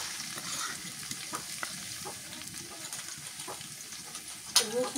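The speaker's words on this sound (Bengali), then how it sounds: "পেঁয়াজ ভাজা হয়ে গেছে, এর মধ্যে দিয়ে দিই মশলা বাটা" Ground spice paste fries with onions in a pan while khichuri is cooked on a winter morning in a village. A steady, soft sizzle runs under scattered stirring scrapes and ends with a sharp metallic clink.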